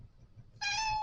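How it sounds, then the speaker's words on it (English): A pet cat named Bean lets out one clear, loud meow close by, rising suddenly out of quiet room noise and holding steady to the end. "Don't you meow at me with that attitude"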